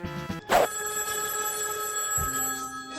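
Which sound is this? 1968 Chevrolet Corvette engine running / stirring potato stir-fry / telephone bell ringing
telephone bell ringing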